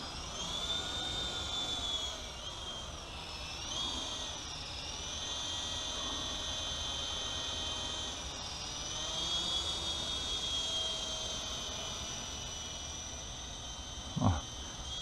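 UDI U12A remote-control helicopter flies nearby, its rotor and motor giving a steady high-pitched whine that rises and falls slightly as it maneuvers, ending with a brief knock.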